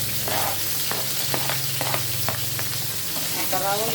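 Carrots frying in a pan for escabeche, a steady close sizzle with repeated clicks and scrapes of stirring throughout, no talking.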